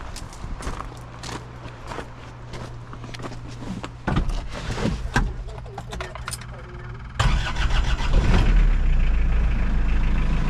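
An Isuzu 2.2 diesel engine with a freshly fitted timing belt starts after some handling noise and footsteps, catching with a jump in loudness and settling into a steady, close diesel clatter.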